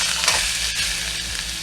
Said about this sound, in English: now we're going to put our steak on